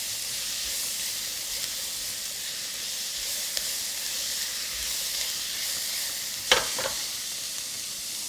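Garlic puree hitting a hot pan gives a steady, fairly quiet frying hiss and sizzle, broken near the end by a brief louder burst of spatter.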